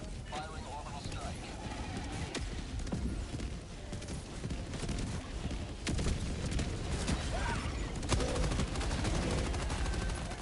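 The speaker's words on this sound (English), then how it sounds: "Firing orbital strike." Relentless heavy bombardment from an orbital strike in the Helldivers 2 video game: dense, continuous booming and crackling barrage of blasts and gunfire filling the whole stretch, with in-game voices calling out over it.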